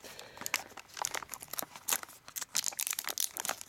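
Plastic wrap crinkles and crackles around a Verbatim double-layer Blu-ray disc spindle, a close, quiet run of irregular sharp rustles and snaps with no voices.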